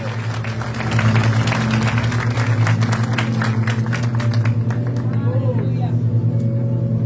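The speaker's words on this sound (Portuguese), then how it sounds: "nessa salva de palmas a Ele, glória a Deus" Congregation clapping during a Baptist church gathering, steady massed applause over a loud low sustained hum of amplified music or organ, continuing throughout.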